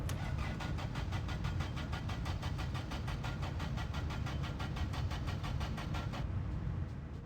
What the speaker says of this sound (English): You're flooding the engine?